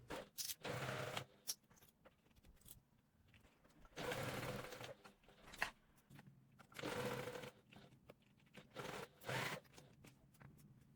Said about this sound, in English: Sew the 4 corners with a 3/8 inch.